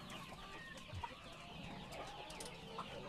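KUB chickens on a poultry farm clucking softly and intermittently, a faint, low-level background of scattered bird calls with no clear talk over it.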